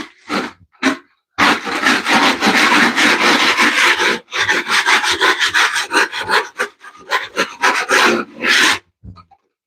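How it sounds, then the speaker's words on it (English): A drywall mud knife scraping a flooded floor, giving loud rasping strokes in irregular bursts with short pauses between them, close up and with no voices. "just using my drywall mud knife to scrape this floor."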